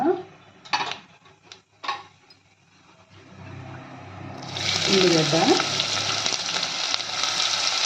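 Onions dropped into hot oil in a pan while cooking a sweet pumpkin curry, a few utensil clinks and bumps first, then a sudden steady sizzle with a stirring scrape.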